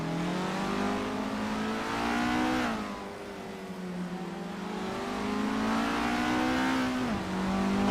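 Formula 1300 race cars in a racing video game on the Virginia International Patriot Reverse layout, a loud sustained engine drone that rises in pitch, drops on a gear change, then climbs again.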